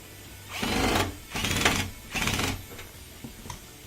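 An LG front-load washer that has had a draining fault fills with water and agitates. Three separate sloshing, whooshing surges come about half a second apart, each lasting roughly half a second. The sound is close and fairly loud, with no speech.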